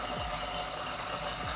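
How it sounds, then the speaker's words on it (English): Tap water runs steadily into a sink, a continuous rushing splash with no voices. "Now I'm gonna take it to the sink and run water over it"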